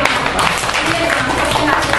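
Applause breaks out partway through a Korean gathering where an artist is present, a dense, loud patter of many hands clapping throughout, mixed with voices talking over it.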